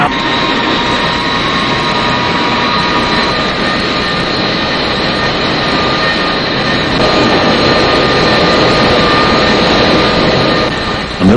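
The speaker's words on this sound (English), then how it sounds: "military plane is observed by the crew on the Faye, mysteriously making low-altitude runs across the search area" A military plane makes low-altitude runs over an ocean search area, its loud, continuous engine roar droning steadily throughout at close range, with no break or pause.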